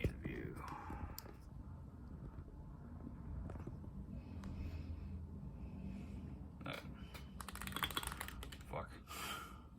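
Rapid typing on a mechanical keyboard fitted with Cerakeys ceramic keycaps during a quick typing test, a quiet, dense patter of key clicks with a few louder taps and low whispery background sounds.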